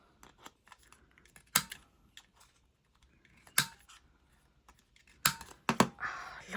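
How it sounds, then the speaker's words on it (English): Scissors snipping the corners of faux metal paper labels, a handful of sharp close cuts spaced apart with quiet paper rustling between them. "Right, so I'm going to trim all the corners."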